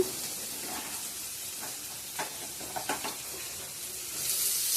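Garlic dropped into hot oil for a tarka sizzles with a steady hiss, joined by scattered stirring clicks and a louder frying surge near the end, with no voices.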